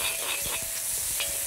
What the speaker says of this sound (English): we just want to fry that off very quickly